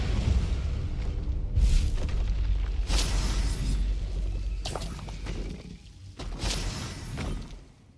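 Bombarda and Confringo spells exploding in Hogwarts Legacy, a series of loud booming blasts and crackling bursts spread across the stretch with short gaps between them.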